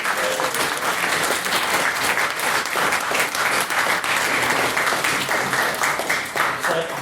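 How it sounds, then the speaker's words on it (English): Sustained audience applause fills a debate event hall, dense and steady for the full stretch with a few brighter individual claps standing out, no voices on top. "So if we could once again extend a round of applause and our congratulations."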